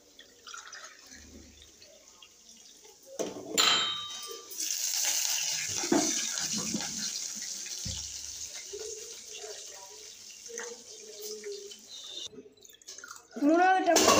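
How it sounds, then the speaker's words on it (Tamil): Water is poured from a glass into a pan for wheat upma in a home kitchen, a steady splashing pour lasting several seconds with small clinks and handling noises around it, close by. "2 கிளாஸ் தண்ணி ஊற்ற போகிறோம்."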